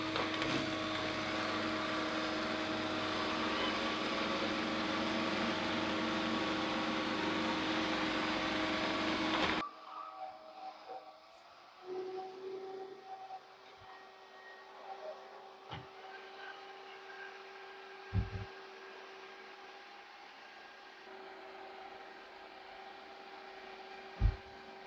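A steady mechanical whir with a faint tonal hum runs through, joined by soft bumps and clicks from a Eufy E20 robot vacuum moving nearby, going under a sofa.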